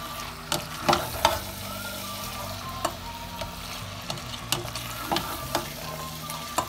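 Mushrooms and peas stirred and cooked in a pan, a low steady sizzle punctuated by regular spoon taps and scrapes against the pan, close and clear without talking.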